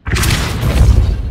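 A Depulso repelling spell from Hogwarts Legacy strikes with a loud, close, booming blast that hits at once and rumbles on for about a second.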